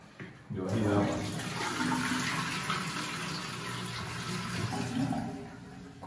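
A toilet in a mansion's private bathroom flushes with a loud, close rush of water that starts abruptly and keeps gushing and refilling steadily. Someone speaks over it.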